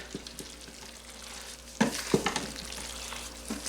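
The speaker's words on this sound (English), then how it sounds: "So let's get this a good stir." Beef stroganoff stirred in an Instant Pot, quiet bubbling with a few sharp spoon scrapes and knocks against the pot in the middle, close and fairly soft.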